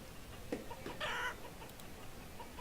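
Chickens in the video game Banished, a few soft clucks and one short, louder squawk over a quiet, steady ambient background, no talking.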